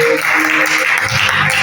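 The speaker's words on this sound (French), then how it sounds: "Acclamons pour la parole de Dieu" A congregation applauds at an open-air church service, a dense, steady burst of clapping that fills the short moment without a break.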